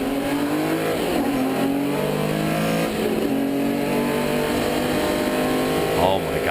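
A Porsche 917K race car engine revs and shifts, rising and falling in repeated sweeps with a hard, loud tone, while someone talks over it throughout.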